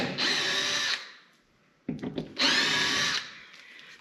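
Power drill backing screws out of a MaxxAir RV roof fan, two loud whirring bursts of about a second each separated by brief clicks and handling noise, close and with no talk.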